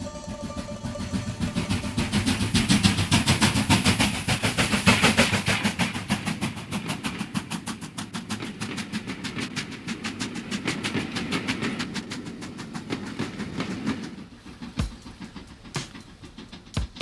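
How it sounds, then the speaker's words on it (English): A Black Five steam locomotive works along the West Highland Line in Scotland with a fast, even beat of exhaust chuffs and rail clatter. The sound stays fairly close and steady, then thins out toward the end. "The smoke and steam of a Black Five engine."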